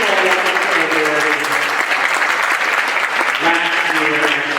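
An audience at a middle school band and orchestra concert gives a steady round of applause for a graduating senior, dense clapping with some cheering and voices mixed in throughout.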